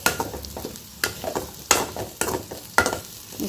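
Green plantain pieces frying in a pan under a soft, constant sizzle, with repeated scraping stirs and clanks of a spatula at irregular intervals.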